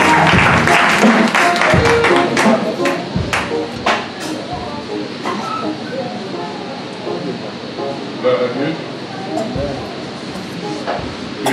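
A church congregation claps and cheers in praise of the Lord at a ministerial certification ceremony. The clapping is loud and rhythmic, with sharp claps and scattered cries that are strongest at the start and ease into a steady patter.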